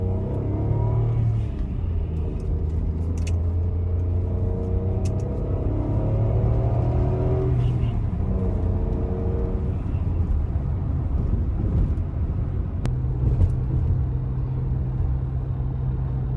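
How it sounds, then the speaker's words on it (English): A 1990 Acura Legend LS Coupe with a 5-speed manual hums steadily at close range, its pitch rising and dropping as it pulls through several gear changes, with road rumble underneath. "We'll just cruise up here, go through the gears a couple times, and show you how it sounds and feels."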